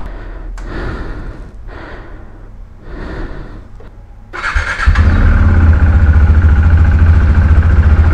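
Engine of a 2018 KTM Duke 390 motorcycle: a few rough, uneven pulses, then the engine catches and settles into a loud, steady close-up idle while warming up.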